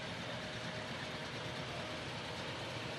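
A vintage John Deere farm tractor rolls along in a county fair parade in Ste. Genevieve County, Missouri, its engine giving a steady, faint, distant rumble beneath broad outdoor noise with no talking.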